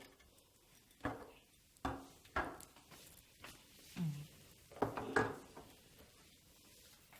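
Potatoes and garlic are chopped in a kitchen, a handful of irregular knife thuds and clacks on a board with quiet pauses between them.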